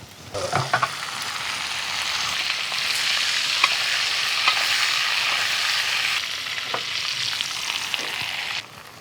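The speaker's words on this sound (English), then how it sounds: "I can hear the fat and everything popping." Steady crackling sizzle of fat frying while steak and coconut shrimp cook in a pizza oven, with scattered sharp pops throughout, close and fairly loud.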